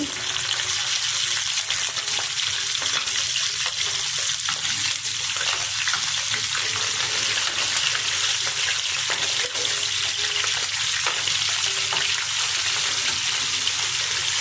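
Steady, dense sizzling of galunggong (round scad) fish frying in hot oil, continuous and close, with no voices over it.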